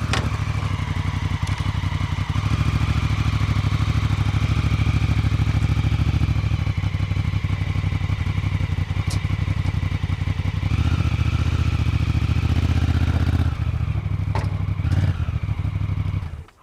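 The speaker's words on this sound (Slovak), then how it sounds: "môžem vám ukázať, ako si ju naložím, tú Afriku, sám a pomôžem si s motorom" Honda Africa Twin motorcycle idling and chugging with steady low throttle as it is ridden onto a trailer, a continuous close, loud engine rumble with faint clatter, easing off and stopping at the end.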